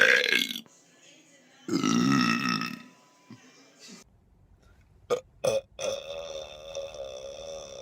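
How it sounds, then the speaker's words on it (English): Several loud, drawn-out burps come from people in short vine-style bits, separated by silences, with brief talking and cut-ins between them. "Belch Cam."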